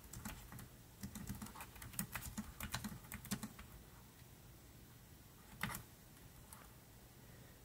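Quiet typing on a Logitech K600 wireless keyboard connected to an iPad: a run of rapid, light key clicks for a few seconds, then near silence broken by one more brief burst of taps.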